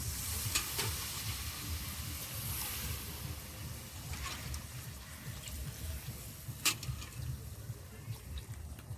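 Chicken curry sizzles and bubbles steadily in a pan as water is poured in, a dense frying hiss with a few sharp spits and stirring clatters, close up and with nobody talking.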